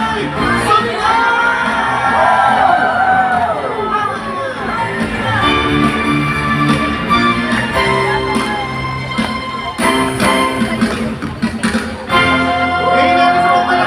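A large worship crowd at an open-air praise gathering in a grandstand shouts and cheers loudly, a dense, sustained roar of many voices with music underneath, swelling and dipping over several seconds.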